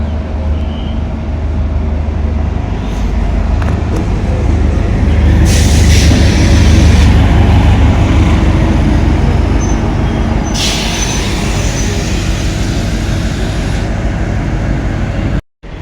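A DEMU train on the Banihal to Srinagar line rumbles steadily, a heavy low drone with rolling wheel noise and occasional hissing bursts, loud and close from on board, cutting off abruptly at the end.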